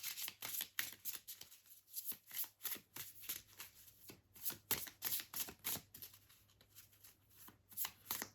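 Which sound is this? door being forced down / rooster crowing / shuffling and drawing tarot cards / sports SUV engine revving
shuffling and drawing tarot cards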